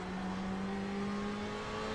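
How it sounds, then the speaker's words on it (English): Race car engine in a racing video game, a steady droning whine with sustained tonal hum, moderately quiet and even as another car runs alongside, with no talk over it. "Car on your left."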